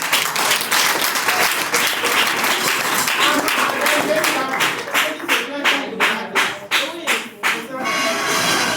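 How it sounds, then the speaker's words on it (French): Audience applause at a French-language round-table event, dense clapping that thins toward the end into distinct, separated claps before fading. "Donc, on applaudit."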